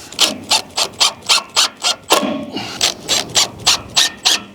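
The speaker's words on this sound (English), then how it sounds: "Let's put a couple screws in now." A screw is driven into a mount for a solar electric fence energizer, giving a steady series of about a dozen evenly spaced rasping bursts, close and fairly loud, with no talk.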